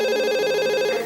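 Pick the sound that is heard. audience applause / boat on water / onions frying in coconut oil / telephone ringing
telephone ringing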